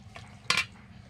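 Pots and utensils clatter while pulao cooks. One sharp metallic clank of cookware rings out clearly and close, then fades over a low, steady kitchen rumble.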